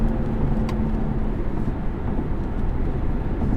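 Steady low engine and road rumble from a 2018 BMW 540i xDrive Touring being driven hard through corners, heard from inside the cabin, continuous and even with no voices.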